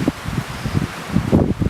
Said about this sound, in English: very windy early afternoon on Merchants Lake